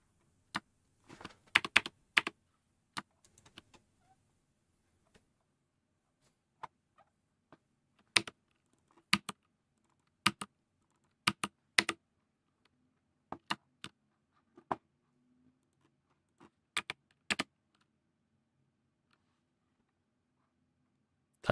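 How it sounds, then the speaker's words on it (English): A computer keyboard clacks in sparse, irregular bursts of crisp keystrokes during Python coding, close and quiet, with pauses of near silence between clusters. "I was just doing extra typing"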